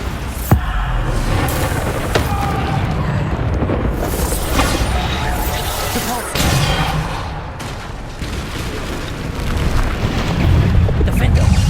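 Spell explosions from the Bombarda curse in Hogwarts Legacy during a magical duel, a dense barrage of booms and bursts rolling continuously with a few sharper blasts, loud and close, with voices calling out spell names over the combat.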